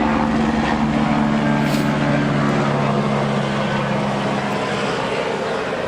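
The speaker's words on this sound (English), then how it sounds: "There's a helicopter." A helicopter passes overhead, giving a loud, steady low rotor drone that holds without a break and fades only slightly at the end.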